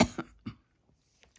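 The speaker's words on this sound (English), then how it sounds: "I'm sorry, I've got a bit of a cough happening." An adult gives three quick, close coughs in a rapid burst, each shorter and fainter than the last, followed by near silence with faint rustling.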